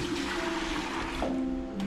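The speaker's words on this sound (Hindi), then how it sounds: "इसमें से कुछ थोड़ा पानी निकाल लूँगा मैं" Water scooped and sloshing out of a home fish aquarium during tank cleaning, a steady close wash of pouring and splashing with a brief gurgle near the end and no talking.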